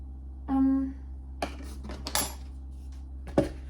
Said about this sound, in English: I'm going to mix all that together